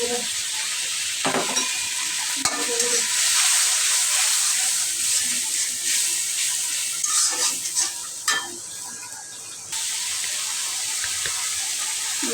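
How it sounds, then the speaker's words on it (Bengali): Turmeric, chilli, garam masala, cumin and coriander powders are stir-fried in a pan at home, with a loud continuous sizzle, scraping stirs and a few utensil clinks close by throughout, and no voices. "মশলাটা আমি ভালো করে কষাই নিয়েছি"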